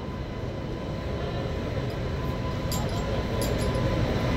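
The Kanchankanya Express, an LHB-rake train, pulls out of Kamarkundu station with a steady, deep rolling rumble that builds slightly over a few seconds, heard from on board in a 3AC coach.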